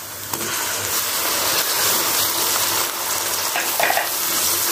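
Chopped tomatoes go into a pan of onions fried light pink for a mutton brain masala, and they fry there. A loud, close sizzle runs throughout, with stirring strokes and a few clinks of a utensil against the pan.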